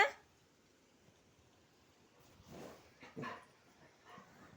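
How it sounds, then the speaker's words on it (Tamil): A dog gives a few faint, short barks and whimpers in a quiet outdoor setting, spaced irregularly after a brief initial noise. "ப்ரௌனி இவ்வளோ சவுண்டு விட்றான்ல."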